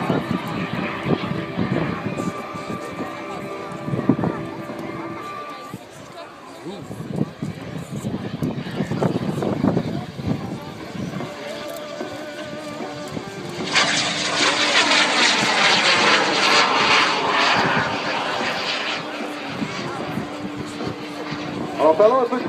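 A jet-powered glider performs at the 2013 Bagotville airshow, its engine a steady roar that swells louder and brighter partway through, with a commentator talking over it throughout.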